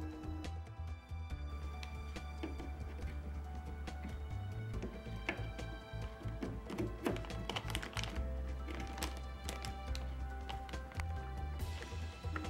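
A DDR4 288-pin memory module is pressed into an ASUS TUF motherboard slot, with a series of sharp plastic clicks and taps over a steady low hum and no talking.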